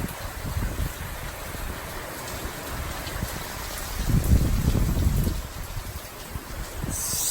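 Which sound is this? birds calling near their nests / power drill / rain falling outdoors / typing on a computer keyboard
rain falling outdoors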